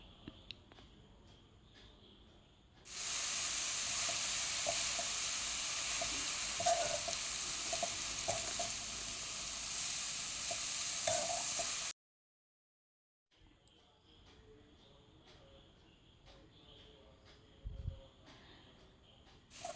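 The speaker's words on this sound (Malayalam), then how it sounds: "ഇനി നമ്മുടെ ചീരച്ചേമ്പതിലേക്ക് ചേർക്കാം എല്ലാം കൂടി നല്ല പോലെയൊന്ന് മിക്സ് മിക്സാക്കാം" Colocasia leaves sizzle in a hot pan as a stir-fry is mixed, a loud steady frying hiss filling the middle stretch, with quieter kitchen sounds before and after.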